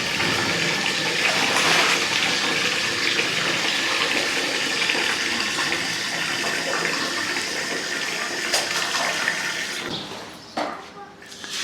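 Wheat is washed in water in a big drum holding close to 500 kilos. Loud sloshing and pouring water runs steadily up close and fades near the end.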